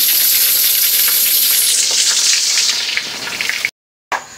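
Pancit noodles with vegetables frying in a pan, a loud hissing sizzle with stirring scrapes that eases off, then a brief silence and a short burst of sizzle.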